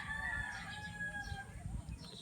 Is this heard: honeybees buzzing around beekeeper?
no